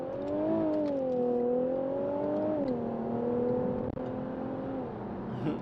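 A car accelerating on the road, its engine whine climbing in pitch then dropping at each gear shift, a steady close drone with smooth rises and falls, no voices.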